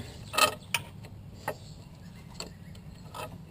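An alternator belt is worked onto the pulleys of a 2005 PT Cruiser engine, giving a few close, sharp rubbery clicks and creaks spaced irregularly over a quiet background.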